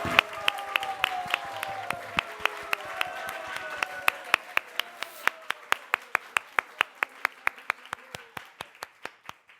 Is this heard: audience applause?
yes